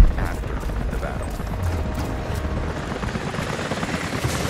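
Helicopter in the video game Rise of the Tomb Raider during a military battle, a loud steady rotor roar with dense low rumble filling the whole stretch, with faint clattering gunfire mixed in.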